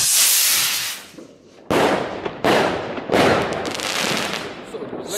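Blitz from Berlin fireworks set off outdoors on New Year's Eve in Delft: loud crackling bursts and sharp bangs come in several separate volleys, each with a hissing, sparkling tail.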